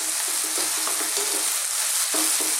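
Thinly sliced chicken fries in a hot wok for fried rice, producing a loud, dense sizzle up close with quick stirring scrapes and tosses cutting through, and nobody speaking.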